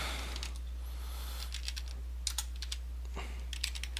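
Bursts of clicking keystrokes on a computer keyboard, close and fairly quiet over a steady low hum, arriving in short irregular runs.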